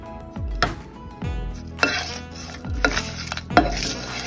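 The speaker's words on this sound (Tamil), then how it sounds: "இப்போது நான் கறிவேப்பிலை பச்சை மிளகா ஆட் பண்ணிவிட்டேன் இதை நாம் நல்லா ஃப்ரை பண்ணிக்கலாம்" Curry leaves and green chillies fry in a pan, heard as several sharp utensil knocks and scrapes against the metal, about one a second, over a light sizzle.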